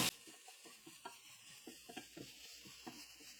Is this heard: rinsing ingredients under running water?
no